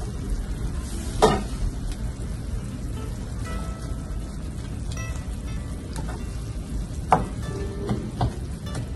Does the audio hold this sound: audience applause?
no